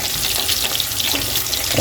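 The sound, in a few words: amodi fish pakoras frying in oil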